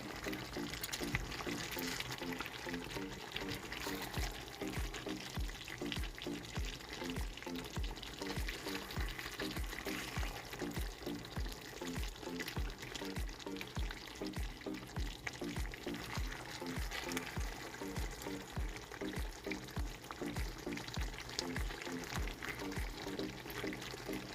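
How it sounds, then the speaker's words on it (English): Pork and vegetables cooking in a pan for a Filipino dish, a continuous soft bubbling sizzle with rapid rhythmic clicks of stirring running evenly throughout, fairly quiet. "And then let it simmer a little more so the vegetables are cooked"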